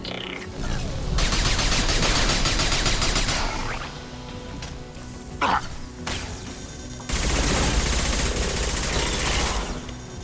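Sustained automatic gunfire with disruptor ammo in the video game Mass Effect 2, loud dense bursts of rapid shots in two long stretches broken by a short lull with a sharp crash.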